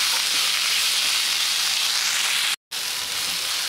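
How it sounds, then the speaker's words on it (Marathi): Corn sautés in hot oil with spices for a corn curry, giving a loud, even sizzle and steamy hiss up close. It is cut by a split-second dropout near the end, and no one speaks. "आपण हे कॉर्न पण आता या तेलात टाकून देणार आहोत मसाल्यात। छान मस्त परतून घेऊयात।"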